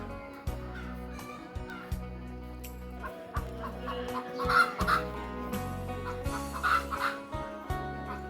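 Chickens cluck repeatedly on a rural morning in a forest village, the hen's calls coming in short, rhythmic bursts close by, with faint bird chirps and light background noise between them.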